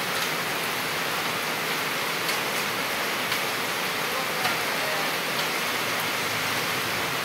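Heavy monsoon rain pours steadily in a dense, even roar, close and loud, with no talk over it.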